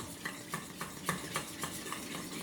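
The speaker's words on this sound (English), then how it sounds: "And then I'm just going to stir that up." Spoon stirring grated ginger into a tofu marinade in a bowl, a faint, quiet series of light taps and scrapes repeating at a quick, even rhythm with no talking.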